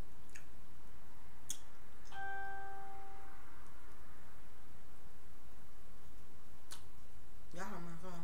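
A phone notification chime rings once as a short bright tone with a few soft clicks around it, set against a quiet hiss, with a brief voice near the end.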